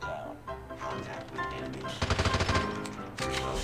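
A CBR4 gun in Call of Duty Mobile fires short automatic bursts, with a tight, rapid string of shots in the middle and more fire near the end.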